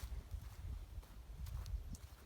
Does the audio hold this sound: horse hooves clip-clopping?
yes